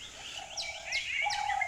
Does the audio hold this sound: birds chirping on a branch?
yes